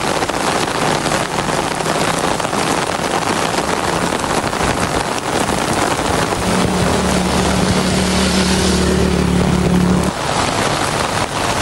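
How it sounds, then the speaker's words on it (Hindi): Heavy early-morning downpour over Islamabad and Rawalpindi: a dense, unbroken hiss of rain fills the scene, joined midway by a low, steady hum that drops away near the end. "इस्लामाबाद और रावलपिंडी में सुबह सवेरे मूसलाधार बारिश।"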